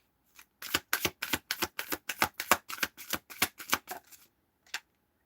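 Tarot cards being shuffled in a quick run of about fifteen crisp riffling bursts, close and clear, ending with a short pause and one last flick.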